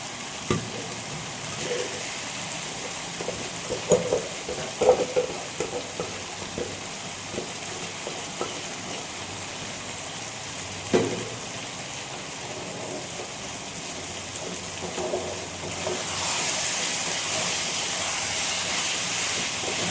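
Chicken pieces frying in a pan for a spicy chicken roast, a continuous dense sizzle with occasional clanks and stirring scrapes, close and loud, swelling into a stronger hiss near the end.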